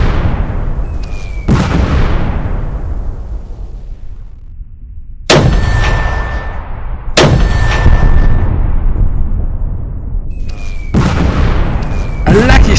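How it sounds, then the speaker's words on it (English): Mortar fire explosions from a war-game battle sound effect: three or four loud, sharp booming blasts, each with a long rolling decay, spaced a few seconds apart over a constant rumbling background, close and dominant. "the Germans began to zero in on the displaced Americans with mortars"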